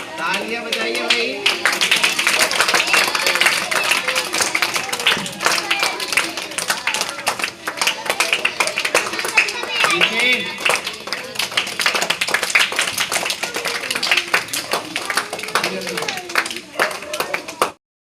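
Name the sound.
audience clapping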